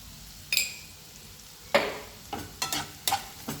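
Egg bhurji with butter and salt is sautéed in a pan, with a soft sizzle underneath and a run of sharp spatula scrapes and clinks against the pan, close by and irregular.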